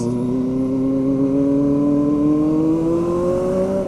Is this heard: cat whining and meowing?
no